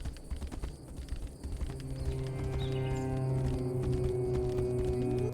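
Rhythmic clip-clop of horse hooves trotting steadily in the video game Tainted Grail: The Fall of Avalon, with a low sustained musical drone rising underneath.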